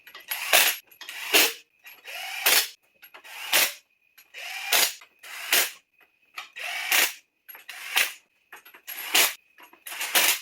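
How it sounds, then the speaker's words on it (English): Ratchet wrench tightening the cylinder head bolts on a Slant 6 engine during a head gasket job, a series of repeated ratcheting bursts of clicks with short pauses between them, close and clear. "how many times do you want to see me twist the bolts?"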